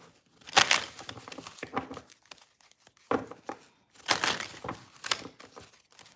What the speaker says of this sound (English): And let's go ahead and shuffle.